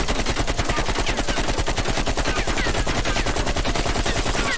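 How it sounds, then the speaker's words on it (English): An AK-47 in a video game firing a long uninterrupted full-auto burst at a wall, rapid evenly spaced shots, loud and close with no talking. "I'm going to shoot at this wall right here, and I'm not going to move my mouse at all"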